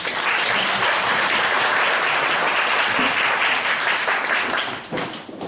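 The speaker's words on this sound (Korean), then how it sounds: "수고하신 찬양팀 위에 박수 드리겠습니다" Sustained applause from a church congregation for the worship team, steady and full for several seconds before tapering off near the end.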